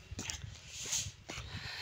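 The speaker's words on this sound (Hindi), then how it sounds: "कुत्ते का काम होता भौंकना" A dog in a smoggy Punjab village gives a few brief barks and faint whimpers at moderate distance outdoors, over steady background hiss and low noise.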